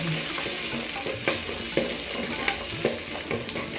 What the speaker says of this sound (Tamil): சின்ன வெங்காயத்தை நல்லா வதக்கிக்கணும்.